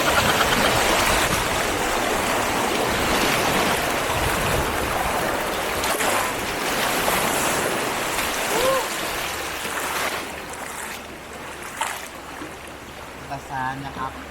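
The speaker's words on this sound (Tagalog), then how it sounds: "ang lakas na naman ng alon guys oh" Strong river waves rush loudly and continuously around a bamboo raft in Thailand, a broad churning roar close by that eases slightly toward the end, with brief voices.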